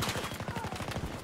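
Rapid automatic gunfire in Battlefield 2042, a fast rattling burst of repeated shots layered with battlefield noise, moderately loud and sustained for just over a second.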